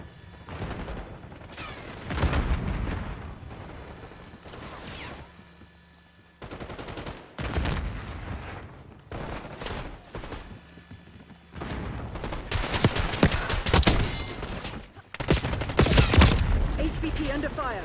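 Black Ops 6 gunfire erupts in irregular bursts, from scattered shots to dense automatic volleys, loud and close, with heavy booms toward the end and brief quieter gaps between exchanges.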